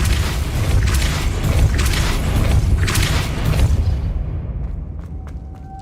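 A Depulso force spell cast in Hogwarts Legacy booms loudly with a sustained rumbling blast for several seconds, then fades into quieter clicks and a thin tone.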